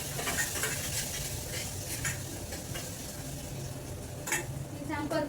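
Chopped tomatoes and red chili powder sauté in a pan, a low continuous sizzle with spatula stirring and occasional scrapes against the metal, heard close at moderate loudness.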